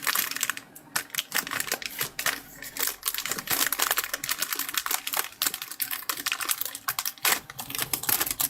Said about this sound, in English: Excuse the package rustling.